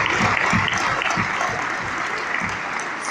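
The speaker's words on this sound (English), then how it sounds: "Let's give Bali a round of applause" An audience at a large London business event gives a round of applause, dense and loud clapping that carries on evenly and tapers slightly toward the end.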